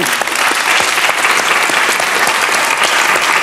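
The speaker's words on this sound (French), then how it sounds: "Philippe Guérin, on l'applaudit." A French TV studio audience applauds loudly and steadily, a dense wash of close clapping with no voices over it.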